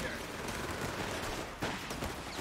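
Dense battlefield gunfire from the Company of Heroes 3 real-time strategy game, with machine gun bursts mixed into a steady, loud wash of combat noise throughout.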